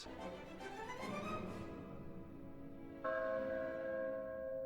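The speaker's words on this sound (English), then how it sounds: "Gosh, I love the sound of bells." A church bell rings out with a rich, sustained tone, a fresh strike swelling louder partway through, its hum lingering over a steady background.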